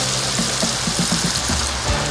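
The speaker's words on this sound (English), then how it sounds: "Now I'm gonna go ahead and pour the vinegar in it." White vinegar is poured into a pan holding fish for Jamaican escovitch: a steady liquid stream with small gurgling splashes, continuous and close by.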